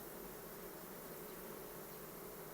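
A strong honeybee swarm hums as a steady, dense buzz that stays even and unbroken, faint but continuous throughout.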